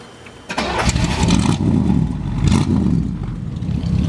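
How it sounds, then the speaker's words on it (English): A 1964 Chevrolet Impala SS's 327 cubic-inch, 325 hp V8 cranks and catches after a brief pause, then settles into a deep, loud, uneven rumble that swells and dips as it idles. "That nice rumble, huh?"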